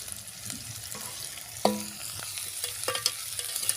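Spiced boiled potato bhaji cooks in a pan, Shegaon style, after coriander goes in, with a low sizzle under a few scraping stirs and one clear clink of a utensil against the pan.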